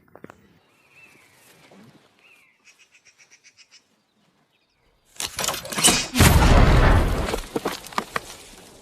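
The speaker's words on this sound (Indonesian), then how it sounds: "melakukan percobaan ledakan pada sebuah pohon" In a forest, a quiet stretch of faint chirps and a short ticking pulse, then a test bomb explosion at a tree bursts out and rumbles for several seconds before fading.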